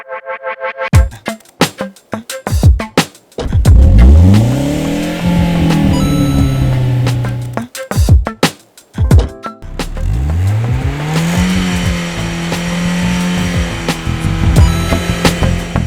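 Car engine revving hard in repeated bursts during an exhaust loudness test, each rev rising in pitch then falling back to a rough idle, loud and close with brief gaps between throttle blips.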